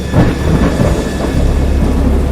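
Thunderstorm effect from the horror game Dagon: a loud, close rumble of thunder with crackling onset that rolls on continuously, likely with rain beneath, and no voices.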